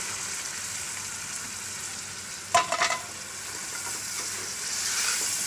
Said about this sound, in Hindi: अब मैं इसमें ये सब्ज़ी डालूँगी।